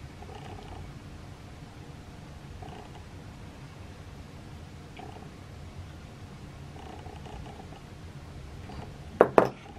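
A cat's soft, steady low purring rumble continues throughout, fairly quiet, ending with a couple of brief sharp clatters.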